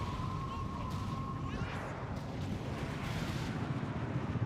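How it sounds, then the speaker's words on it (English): A Panzer III tank striking a mine in the Company of Heroes 3 battlefield, a dense, rumbling blast wash amid sustained distant artillery and gunfire, with no distinct single boom standing out from the continuous roar. "Oh, Panzer III hit a mine."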